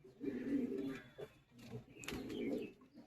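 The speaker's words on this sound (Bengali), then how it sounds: "দেখুন পায়রাটা" A Madrasi pigeon coos nearby in two low, throaty rolling phrases separated by a short pause, with a few faint clicks and rustles between them.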